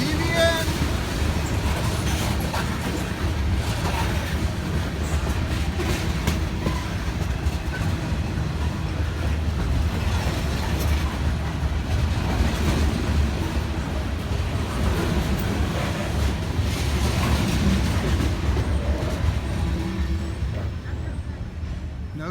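A long freight train rolls steadily past in a neighborhood, a continuous loud rumble and clatter of rail cars heard close by from start to finish with no end car, while a person talks faintly.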